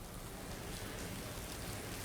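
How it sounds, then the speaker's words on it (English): Heavy rain pours down in a dense, continuous hiss with no breaks, a steady downpour during a tornado warning, faint in level with no talk. "you can see the downpour that is happening there"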